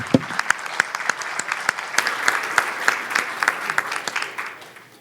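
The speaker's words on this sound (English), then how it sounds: "Please give him a round of applause." Applause from a conference audience at PyCon Balkan 2018, a dense patter of hand claps that stays steady and then tapers off toward the end.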